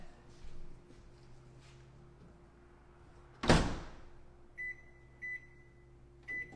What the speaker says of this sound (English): we're going to cook it on high for 45 more seconds, and then we're going to let it stand in the microwave for 1 minute.